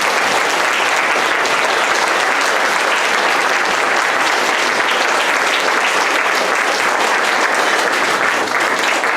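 Sustained applause from a large crowd at a graduation ceremony, a dense, even roar of clapping hands that continues without pause.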